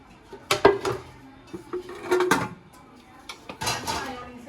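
Rice being stirred in a pot with a large spoon, giving irregular metallic scrapes and clinks against the pot in bursts, fairly close.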